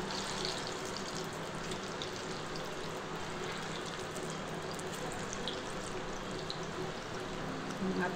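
Bottle gourd kofta fry in hot oil in a home kitchen, giving a steady, even sizzle that holds at a moderate level for the whole stretch without pause.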